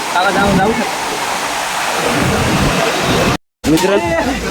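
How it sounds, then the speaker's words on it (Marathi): A waterfall at Beloshi village in Alibag taluka roars in a steady loud broadband rush, with someone speaking over it and a brief dropout near the end. "बघा नक्की या बेलूची धबधब्यावर नक्की या"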